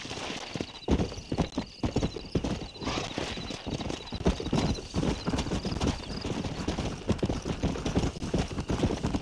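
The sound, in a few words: horses galloping in a video game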